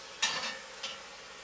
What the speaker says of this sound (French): On va ajouter le lard, les lardons.